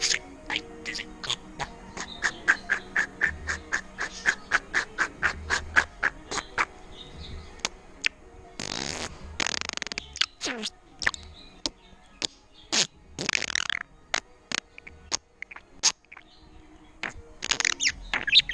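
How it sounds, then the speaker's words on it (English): A female budgie chirps and chatters indoors with rapid, close tweets and clicks, followed by louder bursts of squawky, speech-like babble; no human voice. "There's a budgie."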